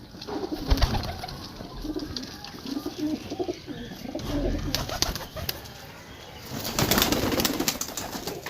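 Pigeons kept for competitive high-flying coo steadily and repeatedly up close, with rustling and occasional wing movement throughout.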